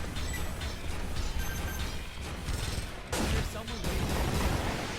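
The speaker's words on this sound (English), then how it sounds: "There we go, that's the missiles." Missiles launch in Earth Defense Force 5 as a dense, loud barrage with rumbling blasts and a fresh surge partway through, over a constant battle din.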